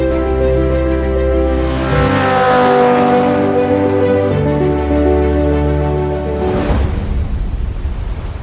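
Onboard a homemade Mercedes-based hybrid race car lapping a circuit, the engine drones loudly and steadily, rising in pitch under acceleration and shifting through gears with a brief drop, close and continuous throughout.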